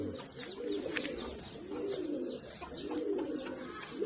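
High-flyer pigeons in a Nagercoil loft coo repeatedly in soft, rolling bursts. Several birds overlap at close range, with occasional brief chirps and no talking.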